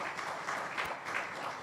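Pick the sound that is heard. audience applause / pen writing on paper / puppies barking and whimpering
audience applause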